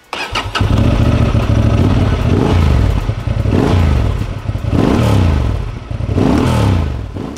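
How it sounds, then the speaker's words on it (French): Honda Transalp 750 motorcycle with an Arrow exhaust, the engine started and then blipped in three or four loud rising revs that fall back to a throbbing idle between them, close by. "On a la chance de disposer d'un échappement Arrow qui offre une sonorité"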